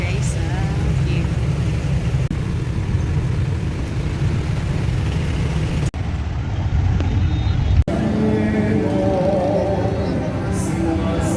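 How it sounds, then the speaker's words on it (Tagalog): Inside a moving jeepney in Quiapo, a steady loud engine drone and road rumble fill the cabin, with a couple of sharp jolts and voices talking over the noise. "So dito na kami guys sa jeep."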